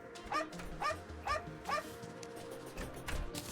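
A pet dog in Terraria barks in four evenly spaced, sharp yips over a low game-music bed, followed by a quieter, busier stretch near the end.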